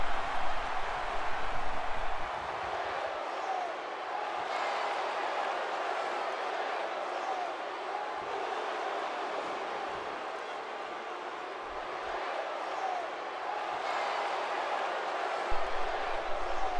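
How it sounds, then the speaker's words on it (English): A large crowd roars and cheers continuously at a distance in the WWE 2K17 wrestling video game, a steady wash of noise with no breaks. "this crowd is just on fire right now"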